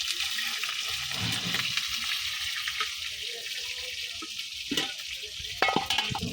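Rohu fish sizzles steadily in hot oil in a wok, a constant crackling hiss with occasional louder spatters and a few clinks near the end.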